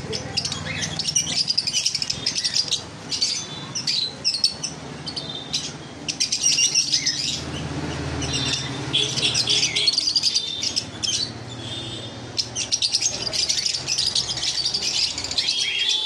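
Lovebirds, conures and white cockatiels for sale fill the space with dense, loud chirping and sharp squawks, a constant overlapping chorus close by with occasional rattling.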